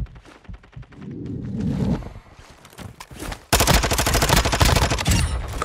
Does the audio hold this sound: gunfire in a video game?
yes